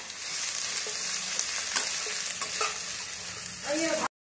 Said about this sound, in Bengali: পেঁয়াজটাকে কিন্তু লাল লাল করে ভেজে নিতে হবে, বেরেস্তার মতো করে।